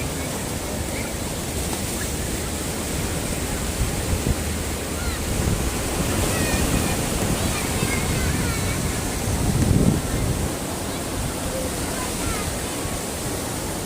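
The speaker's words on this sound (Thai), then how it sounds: "น้ำทะเลก็แรงครับ" Strong sea waves roll onto Samila Beach in Songkhla, Thailand. There is a constant loud roar of surf with wind buffeting the microphone, and a slightly heavier wash swells near the end.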